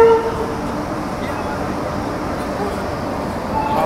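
A train passes on a railway line in India, a steady, continuous rolling rumble with a brief horn-like tone at the very start.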